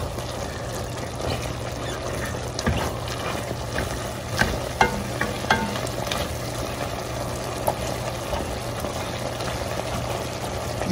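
Ground beef for chili sizzles in a pan with a constant close crackle, broken by a few sharp clicks and scrapes as a utensil stirs and breaks up the meat.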